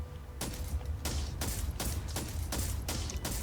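A big gun in the TerraTech video game fires in a rapid series of about eight sharp, booming shots over a steady low mechanical rumble.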